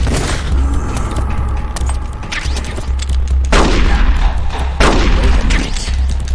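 Bullets ricochet and guns fire in Metal Gear Solid: The Twin Snakes, with loud, sharp bursts of shots and metallic pings in quick succession.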